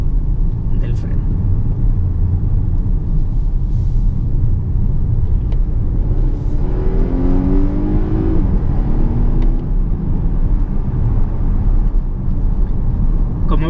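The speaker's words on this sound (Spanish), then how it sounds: "si pisamos a fondo siempre va a aprovechar la potencia máxima tanto del motor térmico como del motor eléctrico" A Volvo S90 T8 plug-in hybrid saloon accelerates hard at full throttle, a loud steady engine rumble and drone with a rising tone midway, heard from inside the cabin, with someone talking over it throughout.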